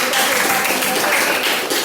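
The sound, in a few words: applause for the second-grade children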